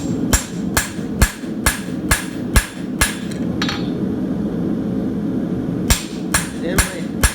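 A farrier hammers steel horseshoe nails through a shoe into a horse's hoof with sharp, evenly spaced metallic taps in two runs, close and loud, separated by a brief pause.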